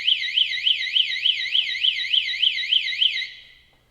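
A shop emergency warning alarm wails loud and continuous in a fast warbling rise-and-fall, repeating evenly for about three seconds before cutting off.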